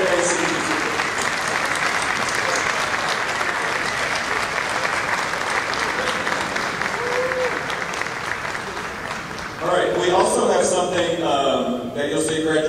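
Audience at a high school senior honors assembly applauds the graduating seniors with steady, sustained clapping that fills most of the clip before a voice starts speaking near the end.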